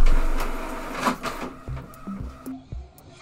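A printer whirs and clatters as it feeds paper, with a busy mechanical rush that gives way to short, uneven clicks and motor pulses.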